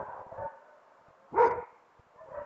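A dog near a barn gives a single short bark or yelp partway through, fairly close and moderately loud, with quieter background sounds before and after and no voices in this stretch.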